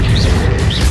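Accio spell cast during combat in the Hogwarts Legacy video game, a dense, loud rush of magical energy over a steady low rumble that carries through the whole short moment.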